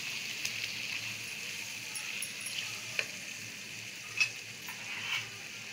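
Spices with red chili powder and turmeric frying in a pan, a soft steady sizzle with faint stirring scrapes and a few light taps, alone with no talk.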